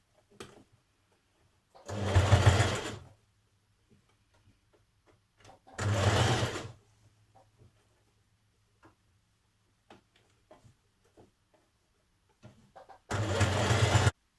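A sewing machine hems T-shirt sleeves with a double fold in three short bursts of fast, steady stitching, close and clear, with quiet pauses and small handling clicks between.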